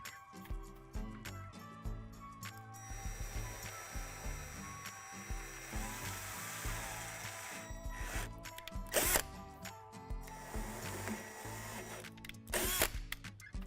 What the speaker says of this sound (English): Now we're going to drill out 2 holes through the dimples on the edge of the sink pedestal.